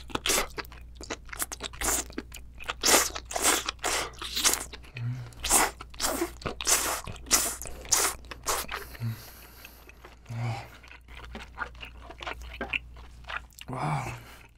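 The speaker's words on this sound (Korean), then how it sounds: "낙지도 먹어볼게요." Close, crisp mastication of small octopus from a spicy Korean seafood soup, a steady run of wet crunchy bites and squishy chews across the whole stretch, loud and alone with no talk.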